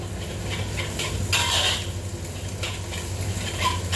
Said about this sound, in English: we're just going to fry these eggs on high heat